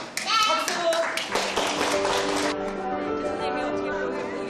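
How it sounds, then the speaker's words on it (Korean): A group of children at an elementary school science class claps together, a burst of brisk hand claps that stops after a couple of seconds, leaving voices and a faint musical tone underneath. "박수!"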